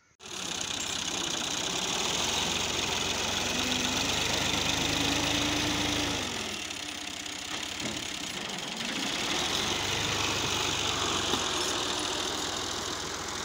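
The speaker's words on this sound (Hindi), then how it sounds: "ये ट्रैक्टर ट्राली के अंदर जाकर ऊपर चढ़ के यानी कि मिट्टी भर रहा है" A tractor climbing into a trolley while loading soil, its engine running steadily and loudly at close range with a constant rumbling idle and a brief dip in load partway through.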